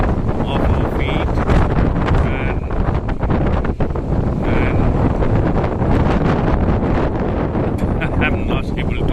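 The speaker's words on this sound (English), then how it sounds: "It's quite windy here, unimaginably blowing us off our feet." Strong wind in Toledo, Spain, buffets the microphone in heavy, continuous gusts, with muffled voices faintly under the roar.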